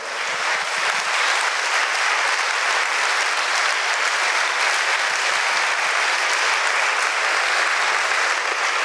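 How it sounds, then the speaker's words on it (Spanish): Congregation applauding during a Sunday Mass in a parish church in Táchira, Venezuela, a sustained, loud, even roar of many people clapping with no gaps. "Por esos aplausos que usted y yo acabamos de dar"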